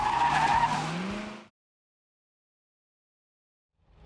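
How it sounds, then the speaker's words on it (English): A Crown Vic converted into a Spec Panther race car runs on the Nashville Super Speedway track, a loud, close roar of engine and squealing tires for about a second and a half before cutting to silence. "Here she comes down the front stretch. Our Spec Panther hits the track"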